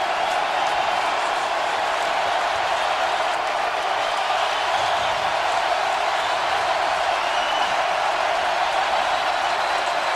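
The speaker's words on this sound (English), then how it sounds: "The crowd is fully engaged and back into this one." Football stadium crowd roaring steadily during the Eagles vs Saints divisional playoff game, a dense, continuous wall of cheering and noise with no letup, loud and close.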